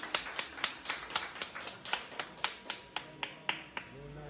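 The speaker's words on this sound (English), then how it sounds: "Let's give a round of applause." A few people clapping in slow, evenly spaced beats after a cake unveiling at a foundation presentation in Buff Bay, Portland, sparse and fairly quiet with no talk.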